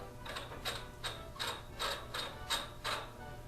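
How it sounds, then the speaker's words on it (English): Bunsen burner air valve being turned open, a series of about seven short clicking, ratcheting bursts at a steady rhythm, close and fairly quiet, with no talk. "So we're going to open the air valve."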